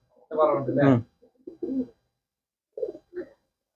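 A pigeon coos close by in a few soft, throaty phrases separated by short pauses, in a racing pigeon loft.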